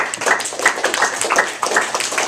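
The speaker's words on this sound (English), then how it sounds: "let's give them all a round of applause" A debate audience claps for the debaters after a round ends: a steady, dense patter of many hands, fairly loud and close, sustained throughout.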